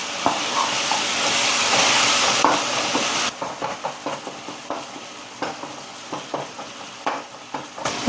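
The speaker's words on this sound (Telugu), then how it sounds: "చూడండి టమాటా వేగింది చూడండి ఇలా మెత్తగా వేగాలి" Tomatoes frying soft in a pan for a drumstick and sweet potato stew, a loud bright sizzle that suddenly drops to a quieter bubbling hiss broken by repeated sharp stirring taps and scrapes, close and without talk.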